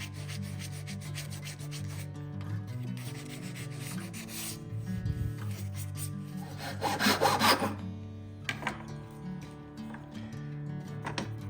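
Walnut wood sanded by hand in repeated back-and-forth strokes, close up, over a steady background hum.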